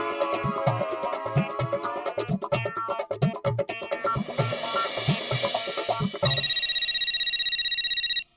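A mobile phone rings with a repeating tonal ringtone melody, loud and close, over rhythmic background music, ending in a steady high electronic tone.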